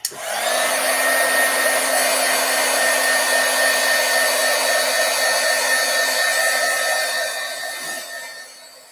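Hair dryer drying stamped ink on a paper image, a loud steady whirring blow that runs for about eight seconds before winding down.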